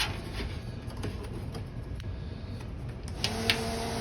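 A bathroom exhaust fan in a 24RBS Envision RV runs near a low background rush, then a switch clicks and a steady motor hum starts near the end.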